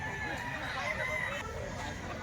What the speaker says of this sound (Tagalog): Napakaraming manok ngayon dito sa grotto mga bossing